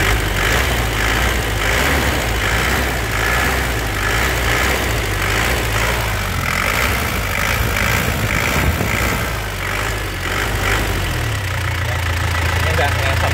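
A black 2006 car engine idles steadily with a low rumble, then is blipped with throttle in a few swells, heard up close while someone talks throughout.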